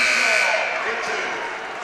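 At a boys' high school basketball game, Rossville at Frankfort, the buzzer ending a quarter sounds as a loud, steady, harsh tone lasting nearly two seconds over crowd noise and an announcer's voice.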